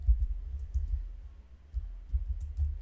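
Computer keyboard typing while working in a spreadsheet: light, irregular clicking keystrokes, close and fairly quiet, over a low background rumble with no talking.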